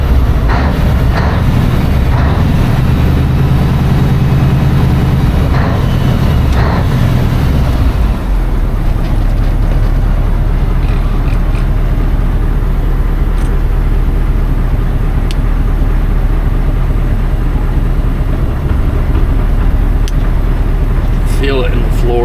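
A 1980 Peterbilt 359 truck with a 3408 Cat engine drives with a loud, steady low rumble and rattling drivetrain noise, and the tone shifts partway through.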